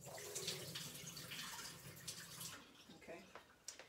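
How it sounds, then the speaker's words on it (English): Pickle brine splashes steadily out of a jar as it is poured off, a continuous liquid trickle that thins and breaks into drips near the end, fairly close and quiet. "What I like to do is I like to pour some of the liquid out of the jar before I actually pour it into my pot."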